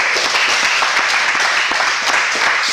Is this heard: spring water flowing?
no